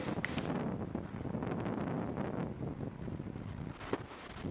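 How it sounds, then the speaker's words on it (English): A SpaceX Falcon 9 rocket lifting off from Vandenberg on a Starlink mission, heard as a steady, distant, wind-buffeted roar that rumbles continuously throughout with no voices. "Liftoff of the Falcon 9."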